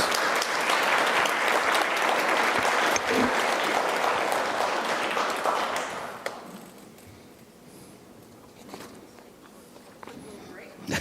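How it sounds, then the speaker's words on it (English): An audience at a regional civics bee competition applauds the students with loud, dense clapping for about six seconds, then it dies away into scattered claps, shuffling and a voice speaking. "we need to give the entire room another round of applause,"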